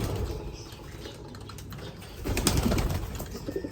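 Racing pigeons in a loft cooing softly nearby, with light rustling and brief wing flutters mixed into close, quiet background noise.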